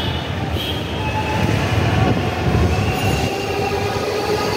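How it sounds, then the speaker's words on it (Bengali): Metro rail train running, heard from on board as a loud, steady rumble with high squealing wheels and a constant whoosh throughout, no voices. "ওদের আবার মেট্রো রেল চলছে"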